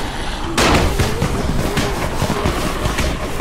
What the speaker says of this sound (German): dann werfe ich mal hier auf die Kreuzung Böller